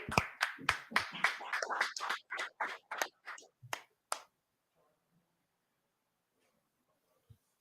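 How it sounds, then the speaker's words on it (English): Class members at a brotherhood class clap in a quick, loosely rhythmic burst of sharp individual claps that goes on for about four seconds, then stops abruptly into near silence with one faint tap later. "All right, let's go ahead and clap it up."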